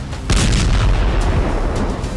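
A loud explosion near the headquarters of Russia's FSB security agency, a sudden deep boom followed by a sustained rumbling roar that fills the whole stretch, heard alone without voices.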